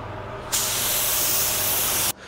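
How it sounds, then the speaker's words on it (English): An LVLP spray gun lays a coat of primer in a single close, loud burst of hissing spray lasting about a second and a half, with quiet before and after. "So I'm just covering the primer here, putting one good coat of primer on it."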